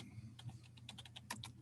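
Quick keystrokes tapped on a computer keyboard, a light irregular clatter of separate clicks, fairly close and soft over a low steady hum, with no talking.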